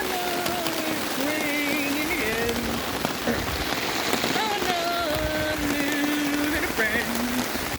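Steady rain patters on tarp shelters during a motorcycle trip from the Arctic to Mexico, a dense continuous hiss with no speech, layered with tonal music running through it.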